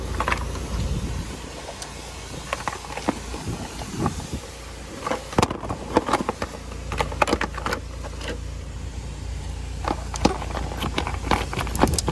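Plastic fuse box cover on a Dodge Ram 1500 pickup being closed and lined up, a run of small close clicks, snaps and rattles of plastic over a steady low hum.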